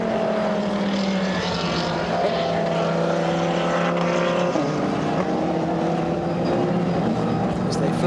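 GT race cars in the Blancpain Sprint Series qualifying race at Algarve in 2014 roar past, loud engine drone with shifting pitch as several cars flash by heading toward the pit lane, commentary faintly underneath.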